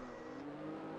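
F1 race cars in a video game warming their tyres on the Monaco formation lap, a steady buzzing engine drone that holds a constant level for a brief moment, with no voices.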